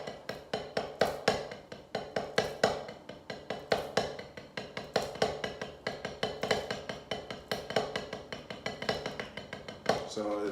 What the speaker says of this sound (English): So you just do six stroke roll going into the Flam 3-2-1.